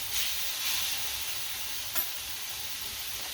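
Food sizzling and frying in a pan at a meal cooked outdoors on a deck, a steady bright hiss with soft stirring, holding at an even level apart from one short clink near the middle.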